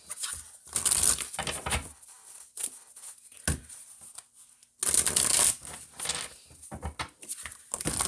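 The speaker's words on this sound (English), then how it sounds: "Let me go and pull some Oracle cards for you guys." Oracle cards being shuffled and pulled by hand, giving bursts of papery riffling and flicking that come in irregular clusters, close and fairly loud, with short quiet gaps between handlings.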